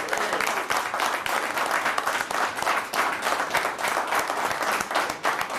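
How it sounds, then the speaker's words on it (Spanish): An audience at a live show applauds with steady, dense clapping that lasts throughout, loud and close, with no break. "un aplauso para Luis."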